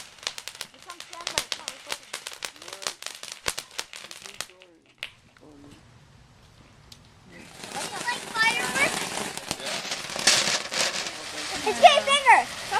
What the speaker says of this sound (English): We got our own little fireworks here.